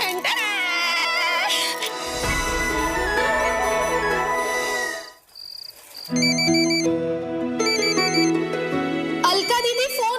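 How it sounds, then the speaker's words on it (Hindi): A mobile phone ringtone plays a bright, melodic electronic tune loudly and continuously, with a short break midway before resuming with repeating chirpy tones. "फोन बज रहा है"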